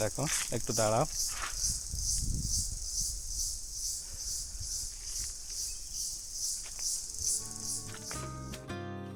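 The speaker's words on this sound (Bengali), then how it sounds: "ঝিঝি পোকার ডাকটা আসলে অসাধারণ" Crickets in Lawachara forest give a steady, pulsing high chirr that runs through the whole stretch. Someone speaks briefly near the start, and a few scattered rustles and knocks come in under the insects.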